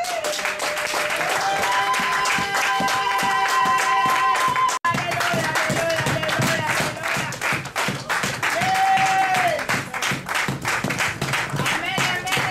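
A church congregation claps and cheers loudly in continuous rhythmic applause, mixed with voices and organ or keyboard tones sustained beneath the clapping throughout.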